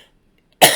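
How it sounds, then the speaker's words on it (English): A single sharp, loud cough bursts out close to the microphone after a stretch of near silence, harsh and breathy as it trails off. "I'm going to cough."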